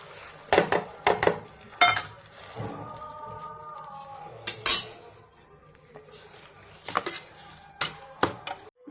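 Curd being mixed into mango peel in a bowl: soft clinks and scrapes of a spoon against the bowl, coming in irregular bursts close by, with faint background hum.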